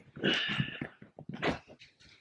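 Small dogs make a quick burst of yips, whines and squeaky vocalizations, close and uneven, alone without talk.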